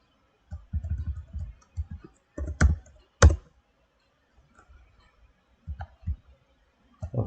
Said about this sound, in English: you have to be very careful while typing the commands